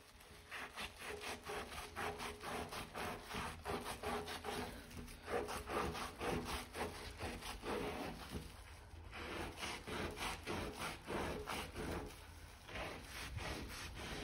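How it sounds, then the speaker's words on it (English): Small angled brush scrubbing into bathtub corners, quick rhythmic back-and-forth strokes close up, continuous and fairly quiet with brief pauses, no talking. "I'm going to use one of these little angle brushes to really get into those corners"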